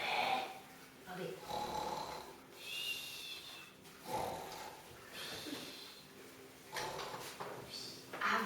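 A voice imitates a sleeping bat snoring upside down, giving several drawn-out snoring breaths in a slow rhythm, with brief soft noises between them, for a group of young children.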